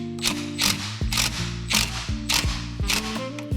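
Screw driven into a new aftermarket plastic front grille on a 2014 Honda CR-V, cutting its own threads, heard as a close, loud series of ratcheting, creaking mechanical bursts in an irregular rhythm, with no talk.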